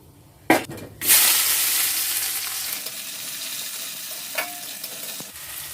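Whole cumin and garam masala, then onions, hit hot oil in a pan: a clatter, then a sudden loud sizzle that settles into a steady frying hiss with occasional utensil clinks.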